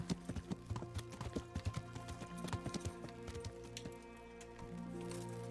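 Horse hooves clip-clopping on the ground in the medieval video game Kingdom Come: Deliverance, close, loud and rhythmic at a brisk pace, over soft ambient tones that carry on after the steps fade.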